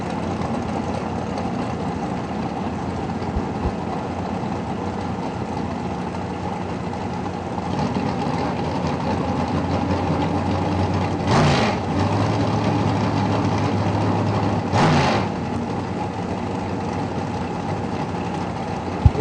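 Drag racing engines idle at the line at Lincolnton, North Carolina, one of them a 1998 Undercover chassis dragster, giving a loud, steady low rumble with two brief swells partway through and no talking.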